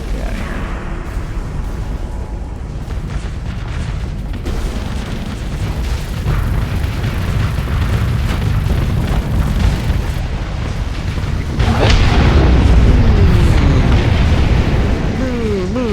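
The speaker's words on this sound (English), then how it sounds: "That was a triple explosion." Explosions boom in the space game Starsector, a dense, sustained roar of blasts and rumbling layered together, swelling louder toward the end with a sharp burst near the close.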